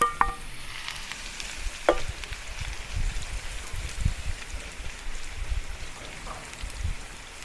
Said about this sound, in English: let the shallot sizzle slowly until it becomes crispy